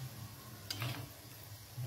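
Oil poured over a mughlai paratha in a hot pan sets off a brief, soft surge of sizzling in the middle of quiet frying.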